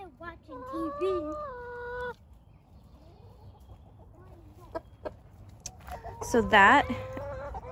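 Chickens in a backyard homestead coop cluck and squawk, with a drawn-out call early on and a louder, busy burst of clucking near the end. A person speaks briefly between the calls.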